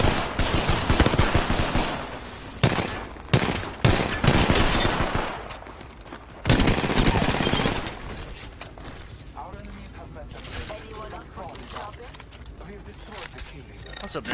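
Bursts of automatic gunfire in PUBG, several loud rapid volleys in the first half that thin into quieter sporadic shots and game noise.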